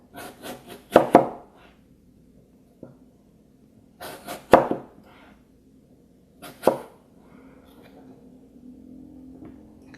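A knife cuts through a crisp apple for a Rosh Hashanah dessert in three close, crunchy bursts of quick slices separated by quiet pauses, with faint handling noises in between.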